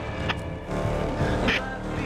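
A car in the racing game The Crew Motorfest drives toward Oʻahu Forest, its steady engine drone running throughout with a couple of brief higher whooshes, under a voice talking.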